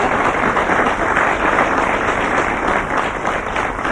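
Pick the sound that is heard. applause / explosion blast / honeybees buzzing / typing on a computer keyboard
applause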